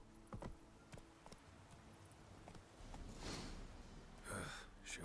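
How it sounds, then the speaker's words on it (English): Horse hooves clip-clop at a slow walk in The Witcher 3 video game, a few soft irregular steps with snorting breaths and faint ambient noise. "Whoa there, Roach."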